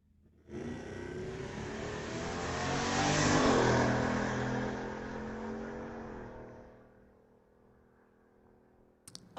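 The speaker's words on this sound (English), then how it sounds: "Last domestic of the round, Tyson Lowe in his 84 Camaro." A 1984 Chevrolet Camaro on a street-legal drag strip at Mission Raceway Park launches and roars down the track, its engine building to a loud peak then fading into the distance over several seconds, with no talk.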